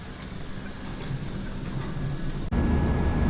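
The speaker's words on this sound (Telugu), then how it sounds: "ఇది లోకల్ ట్రైన్ అనుకుంటా మేబీ ఇటు సైడ్" A local train in Maharashtra rumbles past nearby in a steady, loud roar of wheels and carriages, swelling abruptly louder near the end.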